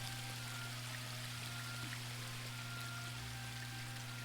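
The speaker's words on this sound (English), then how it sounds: "pour the water into the bird bath." Water pours from a jug into a bird bath in the game Book of Unwritten Tales 2, a faint steady hissing trickle running under a low constant hum, with no talk.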